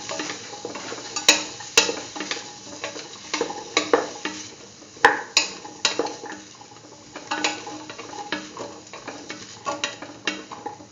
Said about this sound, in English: Thoroughly sort and mix.